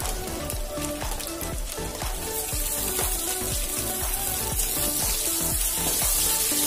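Onions frying in a pan for pav bhaji give a steady, dense sizzle and crackle, close and continuous, with no talking.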